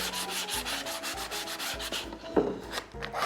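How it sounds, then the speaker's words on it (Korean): Sandpaper rubs back and forth across wood in a steady, even rhythm of close, raspy strokes, with no talking. "이렇게 모가 난 부분도 사포를 이용해서 이렇게 밀어주시면 훨씬 더 촉감이 더 좋습니다"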